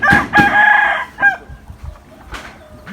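A rooster crows loudly and close by at a rural backyard garden home, one long ringing crow followed by a few shorter clucks and calls in a quiet setting.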